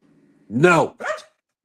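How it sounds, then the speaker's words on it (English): A pet dog at home lets out two short barks, a longer harsh one followed by a briefer one, close and fairly loud against a quiet room. "His dog is barking right now"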